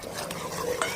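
Thick sugar syrup for sesame candy being stirred in a pan at the hard-ball stage, a busy close scraping and bubbling texture that runs steadily throughout with a small clink near the end, no talk.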